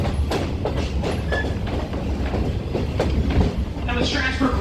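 A passenger train car on the Strasburg Railroad rolls along with a steady rumble and clickety-clack of the wheels, the ride noise filling the whole clip.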